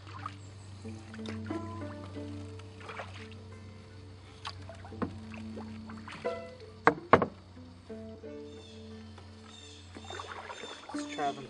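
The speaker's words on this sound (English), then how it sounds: "Just paddling mud now." Solo canoe paddled through muddy shallows and hummocks toward a lake in autumn, slow paddle strokes with dripping and trickling water, wind and someone speaking at times.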